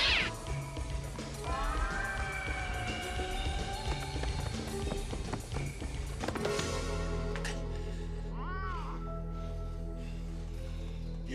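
A cat in a scene from the 1990 horror film Tales From The Darkside gives a short meow late on, set against a steady musical drone after busier clattering sounds.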